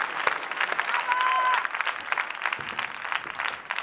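An audience at a televised dance-competition gala claps in a warm, dense burst that swells and then thins into scattered claps, with crowd voices mixed in.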